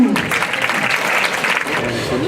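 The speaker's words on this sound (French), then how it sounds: "Je vous demande d'accueillir dans un tonnerre d'applaudissements Thomas Chrysokos." Audience applause at an IUT Montpellier Sète graduation ceremony, a dense steady wash of many hands clapping that fills the hall without a break, loud and close.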